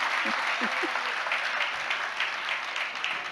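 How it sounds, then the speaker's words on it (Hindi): An audience at a Jain sermon breaks into clapping, a dense even patter of many hands that holds steady throughout, with a brief murmur of voices near the start. "अब ये तालियां काय के लिए बजा रहे?"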